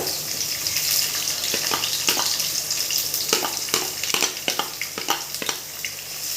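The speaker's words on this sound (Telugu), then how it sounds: "అది వేడి అయ్యేంత వరకు వేడి వేడి అయ్యాక ఇట్లా ఉల్లిపాయలు వేసేస్తున్నాం ఫస్ట్" Chopped onions dropped into three tablespoons of hot oil for egg fried rice, giving a steady near sizzle with scattered sharp crackles and a few stirring knocks, no voices.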